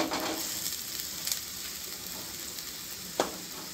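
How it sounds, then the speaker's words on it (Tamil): Onions sautéing toward golden brown for pepper rice, a soft even frying hiss with an occasional faint utensil tap. "ஸோ இப்போது இந்த ஆனியன் நல்ல ஒரு கோல்டன் ப்ரௌன் வரணும் உங்களுக்கு. நல்லா அப்படியே நல்லா வதக்குங்க"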